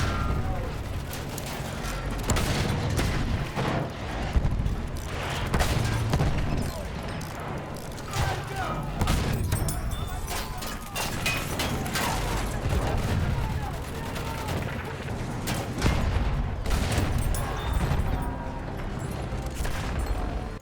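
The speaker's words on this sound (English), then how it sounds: "Let's enjoy a little bit of tank play just so you can see for yourselves in case you've never seen this." Dense, continuous battlefield din from tank combat in Battlefield 1: overlapping gunfire bursts, cannon booms and rumbling mechanical noise, sustained loud for the whole stretch with no clear speech.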